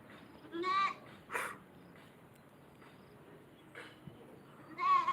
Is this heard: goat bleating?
yes